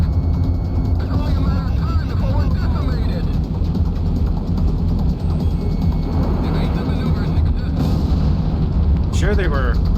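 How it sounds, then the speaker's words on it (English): Bomb blasts in the PSP combat flight game Ace Combat X, a dense, loud, continuous roar of explosions and engine rumble that fills the whole stretch, with a few sharper bursts near the end. "Drop a bomb here."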